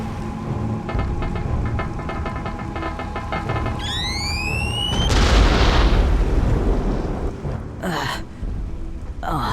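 A tank explodes in the Conker: Live & Reloaded video game: after rising whistling tones, a loud booming blast erupts and rumbles on for several seconds before a sharp crackle near the end.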